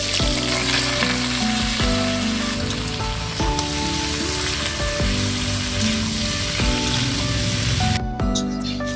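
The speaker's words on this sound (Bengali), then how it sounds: "এখন এঁচড়গুলো ভেজে নেব। কড়াই সরষের তেল দিয়ে দিচ্ছি।" Raw jackfruit pieces fry in mustard oil in a kadai, giving a loud, constant sizzle and crackle from start to finish, with soft tonal music playing in the background.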